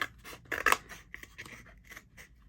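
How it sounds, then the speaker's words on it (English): Scissors snipping through a Christmas journal cover, a run of several close, crisp cuts with one louder burst partway through, then lighter snips trailing off, no talking. "Let's see if I can cut it now with my scissors"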